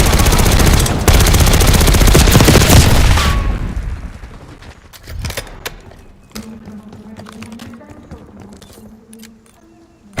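Gunfire in a video game: loud, dense automatic bursts and booming shots for the first few seconds, then scattered sharp cracks and thuds that fade into quieter clatter and rumble.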